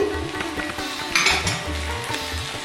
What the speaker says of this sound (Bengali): ভেজানো বাদাম আমি দিয়ে দিচ্ছি।